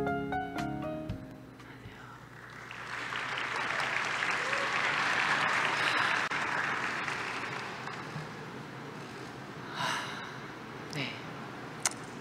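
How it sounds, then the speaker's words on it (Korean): An audience at a world knowledge forum applauds to welcome a national volleyball player to the stage, the clapping swelling after a brief voice, holding through the middle and fading to a few scattered claps. "큰 박수로 맞아주시기 바랍니다"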